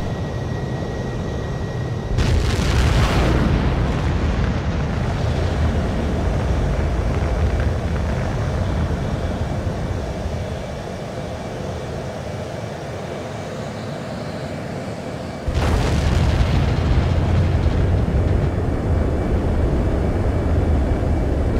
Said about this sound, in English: begin takeoff sequence